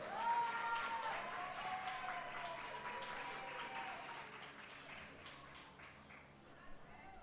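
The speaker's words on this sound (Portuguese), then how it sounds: "Queria inclusive pedir uma salva de palmas aqui para a equipe de Libras, por favor." A live audience at a literary evening in São Paulo applauds the Libras sign-language interpreting team, with dense clapping that starts loud and slowly thins over several seconds, mixed with some voices.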